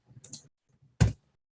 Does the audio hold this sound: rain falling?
no